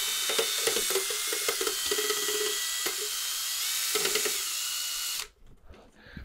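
A power drill whirs steadily at close range, its pitch wavering slightly as it spins a mixing paddle in paint, then cuts off abruptly near the end.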